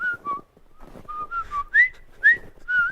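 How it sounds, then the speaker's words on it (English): A person whistles a short walking song up close, a series of bright, clear notes with short gaps between phrases, louder toward the end, with no talk over it. "I'm whistling my walking song."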